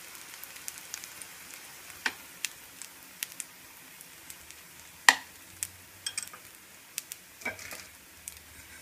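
Makki roti, a maize flatbread, roasting with ghee on a griddle over low heat: a soft, quiet sizzle with scattered sharp pops and crackles, plus occasional scraping touches.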